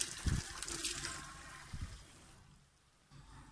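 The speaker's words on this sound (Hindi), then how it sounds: "एक स्टीनर की मदद से इसका पानी सारा छान लेंगे।" Water from boiled potato chips drains through a strainer in a few splashing gushes and a steady trickle, close and moderately loud, easing off toward a quieter end.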